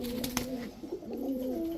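A female Indian Kaldom pigeon, a tournament flying breed, gives soft repeated coos close by against a quiet background, with a few faint clicks and no talking.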